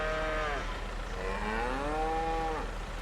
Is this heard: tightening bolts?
no